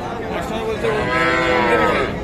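A crossbred bull calf at a cattle market lets out one drawn-out, rising and falling moo close by, over a low murmur of market background.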